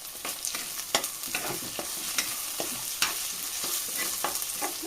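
Crushed ginger and garlic sautéing in a pan for a fish curry: a steady sizzle with repeated scraping stir strokes, close and moderately loud, with no talk.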